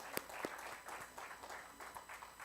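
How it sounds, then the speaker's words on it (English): An audience at a literature festival session in Bhopal gives faint, sparse applause, a few distinct sharp claps at first, then soft scattered clapping from a distance. "I think that calls for an applause."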